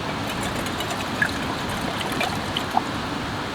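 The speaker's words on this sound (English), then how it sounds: "So we are going to pour in some slightly less iced water." Water poured from a Kirkland water bottle into a pot at a winter hammock campsite, a soft continuous trickle with a couple of faint clinks.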